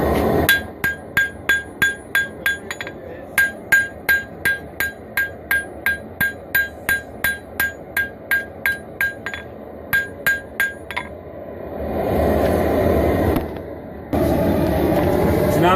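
Hammer blows ring out on a steel dagger being forged, a steady run of sharp metallic strikes at an even rhythm that stops near the end, leaving a louder low rushing noise like a forge fire.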